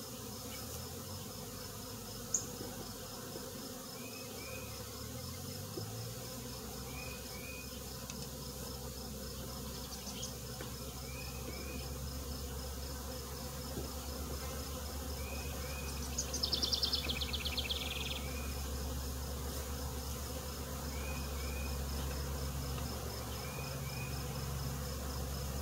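Honey bees buzz steadily around an opened hive during a colony split, a dense continuous insect drone with a brief louder swell midway and no talk.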